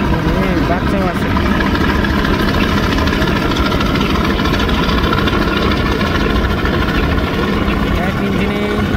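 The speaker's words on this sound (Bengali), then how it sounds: "টান শুরু করলো দোয়েল পাখি 10" Passenger launch MV Doyel Pakhi 10 on a river departing from Ilisha, its heavy engine droning loud and steady throughout, with someone talking over it.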